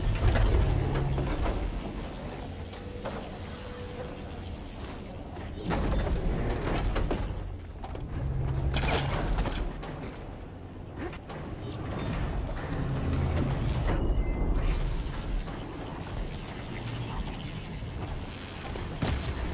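In Horizon Forbidden West, mechanical gears grind and turn and a stone pillar shifts into place, with repeated swells of clanking machinery and rumbling movement through a long stretch, no talking.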